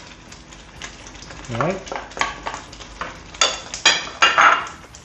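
Onions tipped into a hot pan for a Malaysian chicken curry, a steady close sizzle and frying crackle with bursts of stirring and utensil clinks against the pan, a voice speaking briefly over it.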